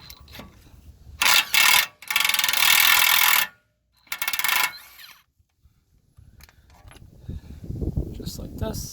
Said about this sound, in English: Next up, gotta remove this castle nut.